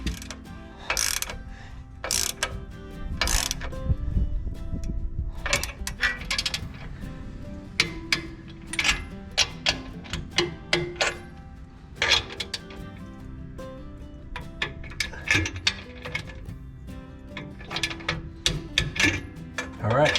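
A torque wrench set to 50 foot-pounds ratchets on the U-bolts of a Jeep Gladiator differential skid plate, bursts of sharp metallic clicks coming in uneven clusters close by, with clanks of hardware between them.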